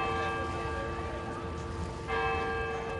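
Clock bells chiming at the Covered Bridge Festival with clear sustained ringing tones, a fresh strike around the two-second mark renewing the resonance.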